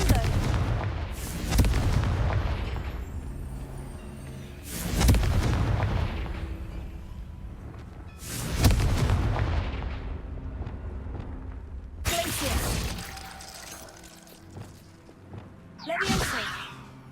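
In the Hogwarts Legacy video game, Confringo blasting spells set off four heavy explosions against rocks, each a deep booming burst with a whooshing tail, spaced a few seconds apart and fading between hits.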